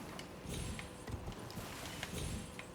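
Horse hooves clip-clopping in Elden Ring, a steady run of soft thudding steps over a broad background hiss, fairly faint and close, with no talk.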